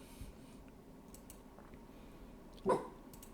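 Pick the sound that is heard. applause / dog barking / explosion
dog barking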